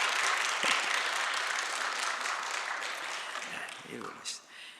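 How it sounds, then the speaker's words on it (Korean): Church congregation applauding to welcome a woman pastor to the pulpit at a Wednesday service, a steady broad clapping wash that gradually thins out, with a few voices coming through near the end. "박수로 한번 환영하겠습니다."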